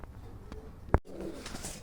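Pigeons at a pigeon farm, with a few soft coos over a low background hum, broken by one sharp loud knock near the middle.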